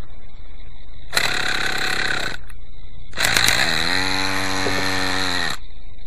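Quickie 18 engine with a hard-starting problem, throttle slightly open: a short harsh burst of running, a pause, then it fires again and runs loud and rough for a couple of seconds with a buzzing, uneven tone.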